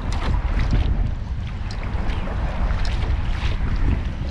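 A motorboat passes close to a Hobie kayak on a back bay, a continuous rushing wash of engine, water and wind noise that stays loud and steady throughout.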